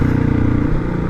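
A Hero XPulse 230 motorcycle rides at high altitude near Leh, giving a steady, loud, close engine drone with a low thrum that holds for a moment without a break.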